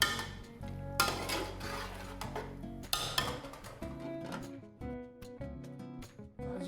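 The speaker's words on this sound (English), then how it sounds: "keep stirring it every now and then" A spoon scrapes and clanks against a cooking pot while softened vegetables, including carrot, are stirred for a base gravy sauce. Metallic knocks and ringing tones come up close in bursts, with no talking.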